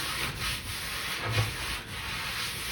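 Copper is rubbed with gritty baking soda, giving a close, continuous scrubbing sound with a few stronger swipes.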